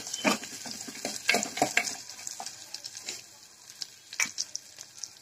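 Green chillies, garlic and ginger frying in a pan, a crackling sizzle broken by repeated clinks and scrapes of a spoon stirring against the metal, close and fairly loud.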